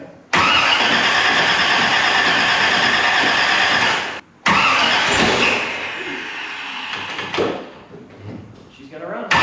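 A 1967 Corvette V8 cranks and fires up, roaring loudly at high idle for several seconds, cutting out briefly, then catching again and settling into a rougher, fading idle.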